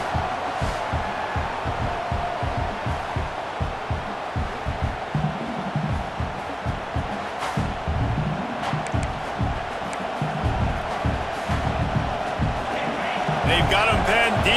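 A stadium crowd roars steadily through a College Football 26 game as the home side pins its opponent deep, a dense wash of cheering beneath continuous play-by-play commentary.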